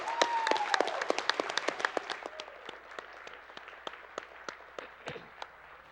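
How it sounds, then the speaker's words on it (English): A crowd applauding steadily, with dense clapping that gradually thins and fades over several seconds, at the Awesome Games Done Quick 2017 speedrunning event after a Mega Man 6 run. "Let's give him a round of applause again for his beautiful run."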